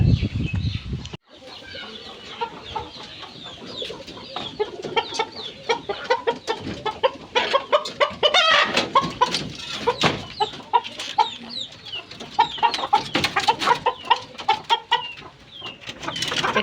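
Farmyard chickens clucking busily at close range, a dense overlapping chorus of short calls with occasional louder squawks, continuing throughout with a brief dip near the start.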